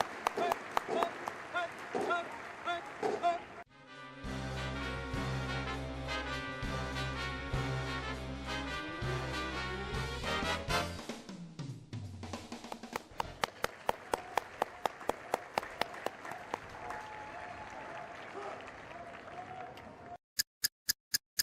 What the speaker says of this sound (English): During the march on, applause is appropriate, but please limit your applause